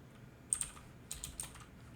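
Computer keyboard typing, faint and close: two short clusters of light key clicks separated by a brief pause, with no voices.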